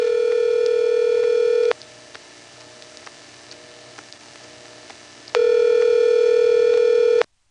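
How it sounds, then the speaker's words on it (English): Telephone busy signal from a 1977 NX1 exchange in Siler City, North Carolina, a steady tone sounding in two long bursts with a quieter hum and faint ticks between them, alone with no talk. "The busy signal in the background there is a typical thing for NX1 recordings"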